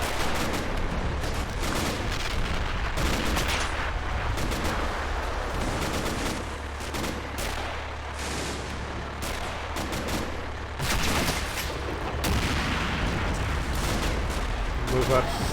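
Tank cannon fire in a video game with heavily armored tanks, loud booming shots and bursts of gunfire over a dense continuous battle rumble, with speech-like game audio mixed in throughout.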